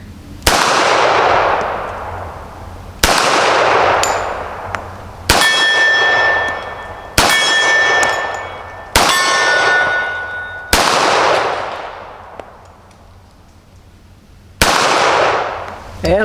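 Shots from M1 Garand, M1 carbine and M1911A1 firearms strike steel targets outdoors, about seven loud bangs at irregular intervals, several followed by a ringing metallic clang that decays slowly, with a quiet gap before the final shot.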